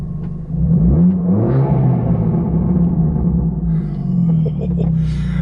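An Abarth 500 with a Powermotive valved exhaust, valve open, drones and rumbles loudly as the car is driven, a steady low engine note heard from inside the cabin with some faint chatter over it.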